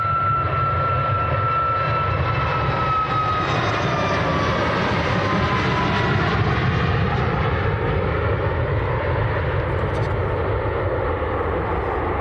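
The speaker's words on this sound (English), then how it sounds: "This is Ryanair to Lisbon. 737-800 max." A Ryanair Boeing 737-800 MAX jet at Manchester Airport gives a loud, steady roar that holds unbroken for about twelve seconds, with no voices over it.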